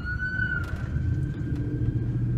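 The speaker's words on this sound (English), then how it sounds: "there was an ambulance that went by." An ambulance driving past on a road outside, a low vehicle rumble with a faint siren tone drifting across, fairly quiet and distant, no talk.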